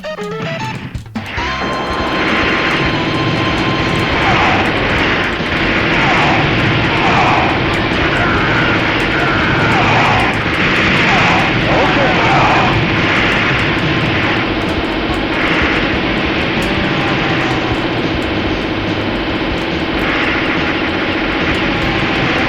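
A plane flies in the PlayStation version of the video game Metal Slug X, its engine a loud, continuous droning roar layered with repeated bursts of in-game action sounds throughout.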